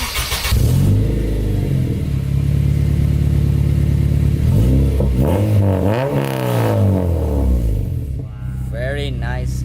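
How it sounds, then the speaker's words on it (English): An Acura RSX engine starts and revs hard, its note climbing and falling through several loud, close pulls, while people chatter around the car. "Turn it on, man. Turn on my car."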